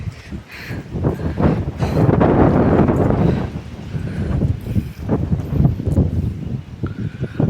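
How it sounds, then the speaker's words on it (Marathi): Strong wind on a mountainside buffets the microphone in a loud, gusting roar, surging and easing in uneven waves over several seconds. "वाऱ्याचा आवाज येईन तुम्हाला आता"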